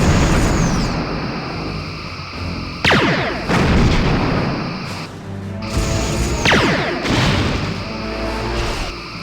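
Starship torpedoes and phaser fire in the Star Trek Bridge Commander game: loud booming blasts with sweeping swishes, arriving in two pairs of bursts over a rumbling background.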